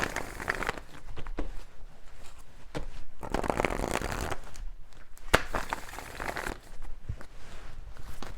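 Tarot cards are shuffled by hand in repeated bursts of riffling and sliding, close and fairly loud, with short pauses and a sharp tap between rounds and no talking.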